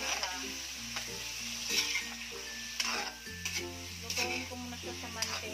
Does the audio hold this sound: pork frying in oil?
yes